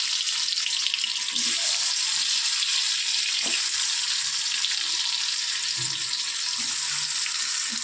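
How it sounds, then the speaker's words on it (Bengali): Turmeric-coated potatoes fry in hot oil, giving a dense, steady sizzling hiss with a couple of sharper spatters and soft stirring knocks. "মাখিয়ে নিচ্ছি তেলের মধ্যে দিয়ে দিচ্ছি আলুগুলোকে"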